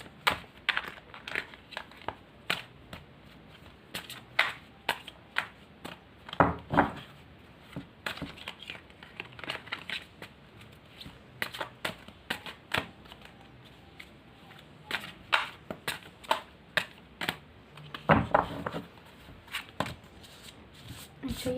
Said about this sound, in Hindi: तो सबसे पहले शफल कर लेते हैं।